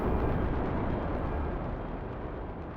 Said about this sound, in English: That is the Reaper Cannon.